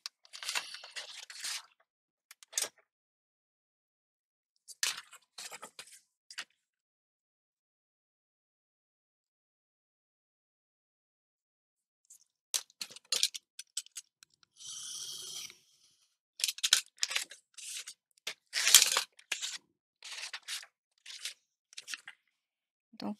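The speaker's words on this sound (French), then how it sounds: "je vais découper un tout petit peu plus que ça et après je rectifie." Scissors snip through paper for a pop-up book in short, crisp bursts separated by long silences, near and fairly quiet, with a denser run of cuts toward the end.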